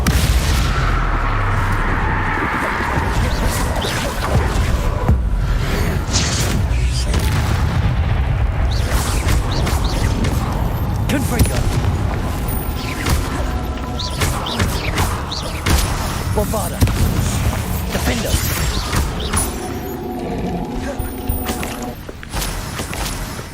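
Confringo blasting curses exploding in the video game Hogwarts Legacy, a dense run of deep booms and rumbling blasts layered over a continuous battle din and score, loud and sustained with no clear gaps.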